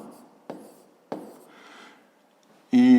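Numbers are written by hand with a few quiet scratching strokes and two sharp taps of the pen. A short sound rises abruptly at the end.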